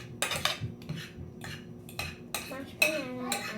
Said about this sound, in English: And now we're gonna mix the mashed bananas.